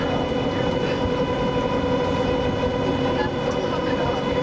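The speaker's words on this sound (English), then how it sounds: "the whirring sound that you hear midships, that whirring sound, those are the vertical thrusters that force the sub down" Inside the Atlantis tourist submarine off Maui, the vertical thrusters produce a steady mechanical whir over a dense low rumble of hull and water noise, continuous and fairly loud throughout.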